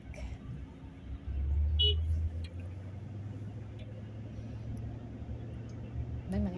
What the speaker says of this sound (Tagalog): Dito guys, matraffic na dito.